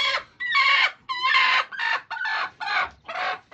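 Chickens clucking on a farm, with hens sitting on eggs: a close, loud series of about eight rhythmic clucks and cackles in quick succession, with no talk over them.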